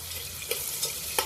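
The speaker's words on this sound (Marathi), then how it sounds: "कांदा मस्तपैकी भाजून घ्यायचा आहे, अगदी मऊ होईपर्यंत व्यवस्थित भाजायचा आहे मध्यम गॅसवरती।" Onion frying in a pan over medium gas with whole spices and bay leaf, a soft steady sizzle close by, broken by three brief stirring scrapes.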